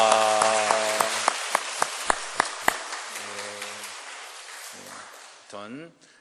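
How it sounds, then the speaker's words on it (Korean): During a Korean church Sunday service, the congregation welcomes new members: a speaking voice gives way to a brief run of sharp, separate claps that fade quickly, and talking resumes afterward. "우리 큰 박수로 환영하겠습니다"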